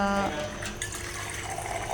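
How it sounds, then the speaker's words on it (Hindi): Water poured into frying meat curry in a cooking pot, a loud continuous splashing hiss and sizzle with a brief tonal hum at the start, close and steady. "ये देखिए, पानी डाल दिया हमने इसके अंदर"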